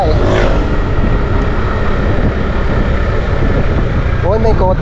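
A car passing nearby, a loud steady engine and road rumble sweeping past outdoors, with people talking over it.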